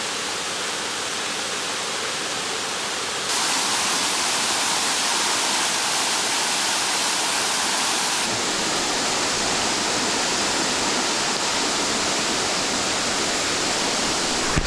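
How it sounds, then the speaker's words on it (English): A waterfall on Lake Cumberland rushes in a loud, steady broadband roar with no pauses; the level steps up partway through and stays constant to the end. "We're on the waterfall tour today."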